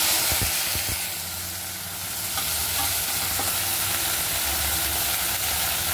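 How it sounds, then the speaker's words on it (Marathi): Sliced okra fries in a little oil in a kadhai heated on a high flame, giving a close, steady sizzle with brief stirring knocks near the start and no voices. "कढई गरम केली, थोडंसं तेल घालणार आहे मी आणि फक्त ही भेंडी पहिले परतून घेणार।"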